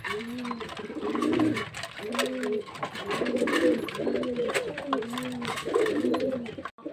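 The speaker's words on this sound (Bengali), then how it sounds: "পায়রাগুলো খাওয়াতে আমার খুব ভালো লাগে।" Pigeons cooing while being fed, with repeated low rounded coos in a regular rhythm close by over a background of pecking and rustling, about six coo phrases in a row.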